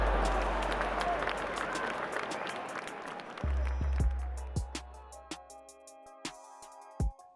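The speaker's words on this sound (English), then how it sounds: "The crowd roared each time Porter bullied inside." Boxing arena crowd roaring during a championship fight, a sustained loud cheer and applause that swells early and then fades into scattered shouts and sharp claps over a low hum.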